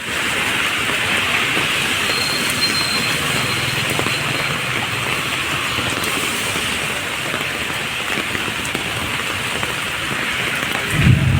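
Heavy rain pouring steadily, a dense, loud and unbroken hiss of downpour lasting throughout, with a faint low rumble in the background.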